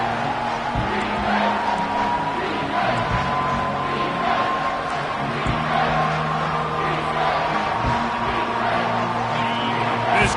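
Football stadium crowd rising up during a game against Oregon, a loud sustained roar with scattered cheers and whoops, steady and close throughout.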